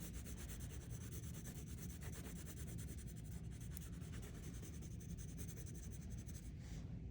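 A crayon rubs quickly back and forth across paper, coloring with its edge in a soft, steady scratching that continues for several seconds, close and faint.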